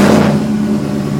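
A GM car's engine fires up after a VATS passkey bypass, a short burst of starter crank catching into a steady low idle hum, close and fairly loud with no talking.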